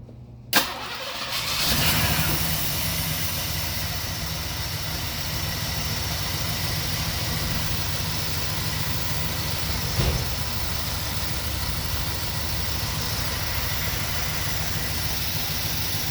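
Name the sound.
car engine starting and idling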